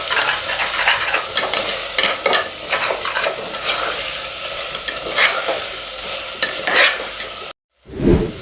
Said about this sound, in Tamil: இப்போ கால் சேர்த்தோன்னே ஃப்ளேமை கம்மியாக வச்சுட்டு இதை நல்லா வதக்கிக்கோங்க.